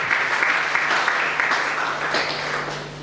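Church congregation claps together during a Sunday service, a steady dense wash of applause that fades slightly toward the end.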